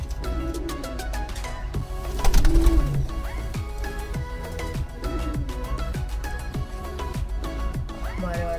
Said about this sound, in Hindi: वाइट कबूतर है काली कबूतर है